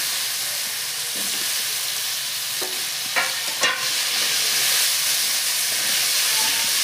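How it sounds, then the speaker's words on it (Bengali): Cut potato pieces fry in hot oil in a home kitchen, giving a steady broadband sizzle with a few brief clinks and stirring scrapes around the midpoint, close and continuous with no talk. "আলুটা ভেজে নেব"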